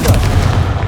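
The Confringo blasting spell in Hogwarts Legacy goes off as a loud, close explosive boom with a heavy low rumble that fills the whole short moment, no voices over it.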